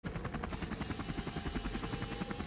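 A mini helicopter in the video game Henry Stickmin Collection gives off a steady, loud, pulsing rotor buzz with a fast, even beat throughout, and no talk.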